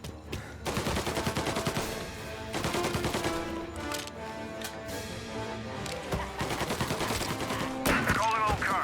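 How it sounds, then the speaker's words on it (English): Rapid bursts of video game gunfire crackle continuously, overlapping shots and volleys with brief gaps, loud and dense throughout. "Reports of gunshots rolling in."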